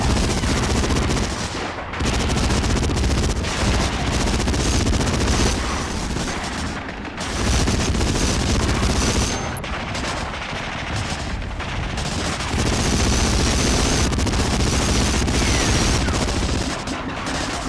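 Sustained machine gun fire and explosions in the PS2 game Medal of Honor: Frontline, a loud, dense, continuous barrage of gunshots with only brief dips throughout.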